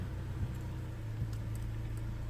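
Engine of a Mercedes B150 W245 with gearbox issues running at a steady idle, a low, even hum heard from close by and fairly quiet, with a few faint light clicks on top.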